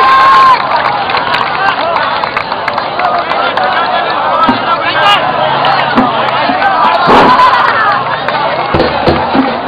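Crowd applauding and cheering loudly, a dense continuous roar of clapping and voices with scattered shouts and sharp claps, close and steady throughout.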